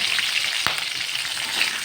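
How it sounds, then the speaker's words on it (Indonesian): Chilies and candlenuts for a spice paste fry in hot oil with a continuous close sizzle and a brief stirring scrape partway through. "Kita goreng sampai bumbunya layu semua ya."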